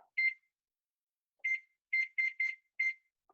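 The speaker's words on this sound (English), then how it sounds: "I'm going to put my timer on" Kitchen timer being set, giving one short electronic beep, then a pause, then a quick run of five similar beeps, close and clear with nothing else audible.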